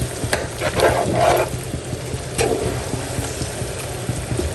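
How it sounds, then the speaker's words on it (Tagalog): Jackfruit simmering in coconut milk with sardines and chili, stirred in a pan, a steady bubbling sizzle with soft scraping strokes of the spoon up close, and no talking. "Yan, at haluin lang po nating maigi."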